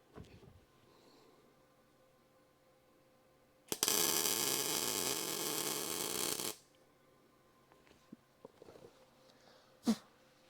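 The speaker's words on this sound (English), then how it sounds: "we're just gonna zap a couple of tack welds in there" A tack weld zapped in during a Crew Cab Charger restoration: one loud, steady crackling burst of nearly three seconds starting abruptly, surrounded by quiet shop sounds and faint clicks.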